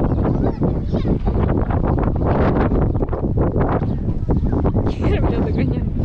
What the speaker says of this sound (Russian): Сюда ветер такой прям холодный.